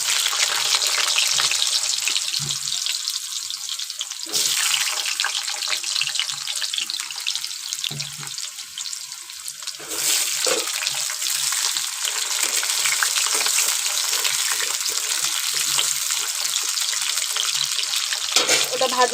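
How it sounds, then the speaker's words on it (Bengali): Potatoes fry in a hot wok, a loud continuous hiss and crackle of oil that surges in bursts each time the pieces are turned or stirred. "চলো এর মধ্যে এবার আলু দিয়ে দেবো, দিয়ে আলু কটা খুব ভালো করে ভেজে নেব।"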